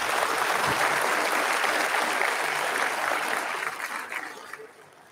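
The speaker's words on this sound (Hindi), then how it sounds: "एक बार ताली तो हमरे तरफ से भी लोग खातिर बजे के चाहिए।" Audience applause at a national history conference's musical night with a cultural program, a dense sustained clapping from a crowd that tapers off toward the end.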